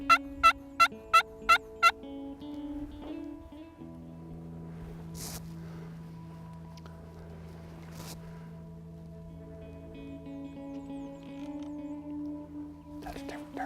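Wild Texas turkeys gobble in a rapid series of five or six sharp, loud calls at the start, followed by quiet outdoor ambience with a faint engine-like drone and a few distant gobbles.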